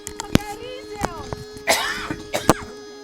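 One person gives several short, harsh coughs and clears their throat, close and loud, in isolated bursts between quiet gaps.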